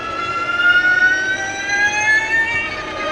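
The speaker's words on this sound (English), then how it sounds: "Oh, you just stamped on the throttle." The McMurtry Spéirling electric fan car accelerates hard on a circuit, giving a loud, steady, rising high-pitched whine with a continuous mechanical roar beneath it.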